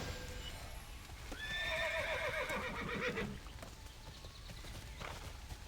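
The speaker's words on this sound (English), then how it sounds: "I feel like my horse is making a lot of noises." A horse in the video game TERA Classic whinnies once in a long, wavering call over steady background hiss, with faint hoof clops before and after.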